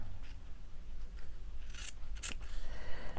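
Scissors snip along the sides of fabric, a few crisp close cuts and a quick double snip against a quiet room.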